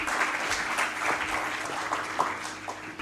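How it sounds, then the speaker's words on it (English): An audience applauds at a smart healthcare event's felicitation on stage, a dense, steady wash of many hands clapping that holds at even loudness throughout. "A huge round of applause for them,"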